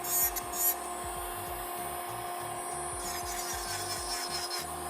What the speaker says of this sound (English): So we're just refining the shape with my electric file